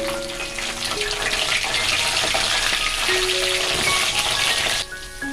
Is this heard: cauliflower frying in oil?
yes